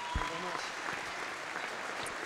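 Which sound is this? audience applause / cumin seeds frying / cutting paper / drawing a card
audience applause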